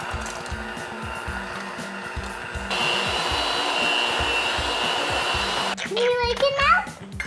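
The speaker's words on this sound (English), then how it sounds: "now we're gonna use the mixer" An electric hand mixer whirs steadily through a strudel cream cheese filling, a continuous motorized drone that gets louder partway through, and a voice comes in near the end.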